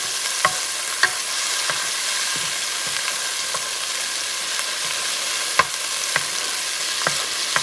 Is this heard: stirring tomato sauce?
yes